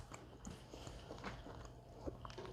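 Biting into and chewing a crispy cauliflower crust pizza, the crust crunchy at the edge and soft in the middle; close, quiet crunches and mouth sounds repeat irregularly, with no talk.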